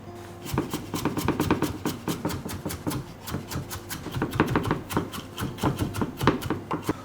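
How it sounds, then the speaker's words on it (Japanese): A knife rapidly minces peeled ginger on a cutting board, giving close, crisp, fast repeated chops in uneven bursts with short pauses between them. "みじん切りにしていきます"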